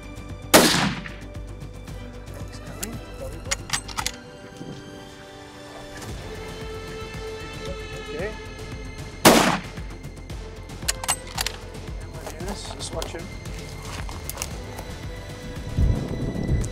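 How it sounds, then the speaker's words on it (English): A few sharp gunshots crack out during a buffalo hunt, one early and one near the middle, each loud and sudden over a quiet outdoor background with faint rustling and small knocks between them. "Don't shoot again, Dennis."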